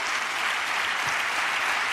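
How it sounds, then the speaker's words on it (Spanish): Sustained applause fills a parliamentary chamber, a dense, steady wash of clapping from many hands that holds at an even level throughout without pause. "Le aplauden de verdad y se quedan tan anchos"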